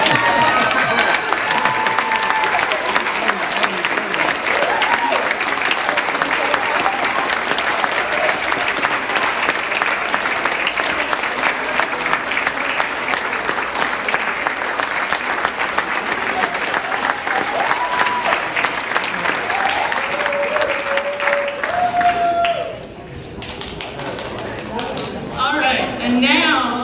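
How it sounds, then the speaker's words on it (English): At a children's awards ceremony, a large audience claps in dense, sustained applause for over twenty seconds before it fades abruptly, leaving quieter room noise and a few stray sounds. "So give it your hands up, your applause."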